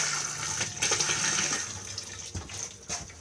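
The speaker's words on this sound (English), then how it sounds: "push the flush on the top" A Thetford cassette toilet in a Bailey caravan flushes in a short, close rush of water that swells, dips and surges again before trailing off.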